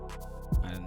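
A drill beat's flute melody with a halftime effect, slowed and stretched, over a deep 808 hit midway through, short and upfront.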